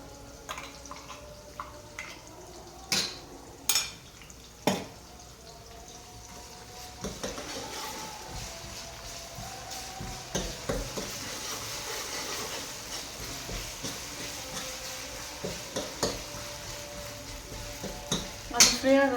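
Ginger garlic paste fries in a pan as a steady, soft sizzle. A few sharp clinks and scrapes of a spoon against metal come through, with faint kitchen noise behind.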